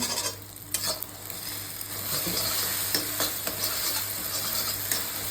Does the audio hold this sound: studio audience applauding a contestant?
no